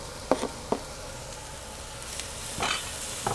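Turkey bacon sizzles in a pan with breakfast potatoes, a steady close crackle broken by a few sharp taps and scrapes of stirring, with no talk.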